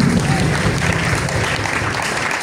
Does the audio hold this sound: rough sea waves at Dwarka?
no